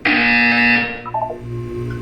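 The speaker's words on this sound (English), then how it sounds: "You will hear a buzzer." Loud, harsh electronic buzzer from the video game Portal 2 sounds once for under a second, then cuts off, leaving softer tones behind.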